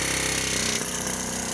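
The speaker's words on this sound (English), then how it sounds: "We bought this air chisel kind of on a whim because we saw somebody else using one" A pneumatic air chisel hammers steadily at a stuck hitch attachment, a loud, continuous rapid-fire rattle that runs alone without pause or speech.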